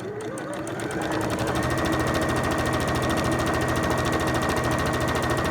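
A domestic sewing machine runs steadily while stitching a fabric scrub hat, its fast, even needle chatter building after a brief start and holding close and loud throughout.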